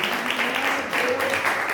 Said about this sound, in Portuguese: missionária, diaconisa Fátima, as palmas do Senhor.